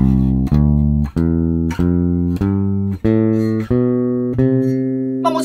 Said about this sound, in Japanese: C からスタートするドレミアソラシドを弾くと、